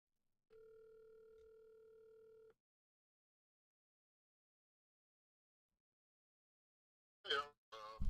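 Steady telephone dial tone heard alone for about two seconds while phoning a friend, followed by silence, then a few short bursts of voice from the line near the end.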